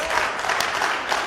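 Wrestling arena crowd roaring and applauding for Audrey Marie during a women's match, a steady broadband wash of cheers with a few brighter swells, loud and close throughout.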